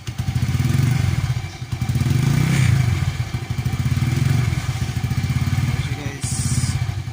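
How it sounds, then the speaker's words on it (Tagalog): A Chinese motorcycle fitted with an aftermarket chicken pipe exhaust revs repeatedly, its loud, close, rapid popping burble swelling and dipping in several blips. "Okay na okay sa China bike guys. Birit pa natin guys."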